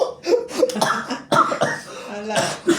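A person coughs repeatedly in harsh, phlegmy bursts during a casual card game, close to the mic, several coughs in quick succession mixed with throat sounds.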